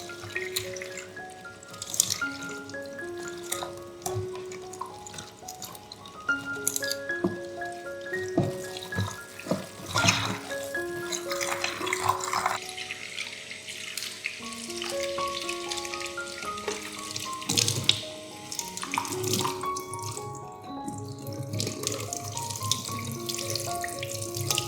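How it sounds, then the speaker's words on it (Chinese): Choy sum and bean sprouts rinsed under a running tap, with a steady splash of water, dripping and handling noises of the greens, close and without talk, while faint tonal music sits underneath. "首先，将菜心和豆芽洗干净"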